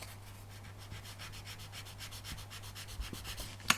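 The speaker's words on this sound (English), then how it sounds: "Just going to sand down the tops" Quick, regular back-and-forth sanding strokes rub down the tops of small plastic parts from an MPC 1/24 General Lee model car kit, close and quiet, with a few faint taps.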